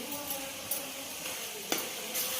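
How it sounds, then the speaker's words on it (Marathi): Spices, including Maggi masala, are stirred and fried in oil in a pan for a fenugreek (methi) masala dish, making a steady moderate sizzle with a few faint stirring clinks. "छान मिक्स करून घ्यायचं हे मसाले हे पण तेलामध्ये थोडेसे परतून घ्यायचे"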